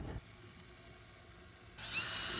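A power drill bores a pilot hole for mounting a pontoon LED docking light, starting abruptly with a loud, steady whir near the end after quieter workshop handling sounds.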